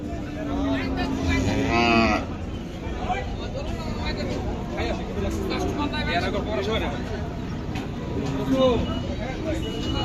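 A cow moos loudly several times nearby at a cattle market, long low calls rising over people talking in the background.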